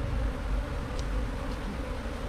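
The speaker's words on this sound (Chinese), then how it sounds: "现在我们可以把这些蜜蜂都赶飞起来，" A swarm of wild bees is being driven out of a deep lure hive with smoke, and a steady, faint buzzing hum continues throughout.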